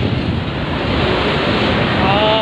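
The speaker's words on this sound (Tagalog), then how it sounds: "Malamig yung simoy ng hangin." A loud, steady rush of cold wind buffeting the microphone in Calamba, Laguna, a constant roar with no talking.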